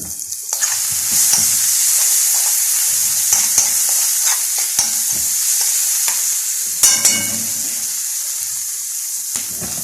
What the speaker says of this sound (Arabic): واسيبه ايه يغلي على النار، يدي مع بعض كده